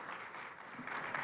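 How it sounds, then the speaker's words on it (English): Brief burst of audience applause at a naval information warfare conference theater, a dense, even patter of many hands held at moderate level throughout. "I'd ask you guys to give a round of applause to the PAOs."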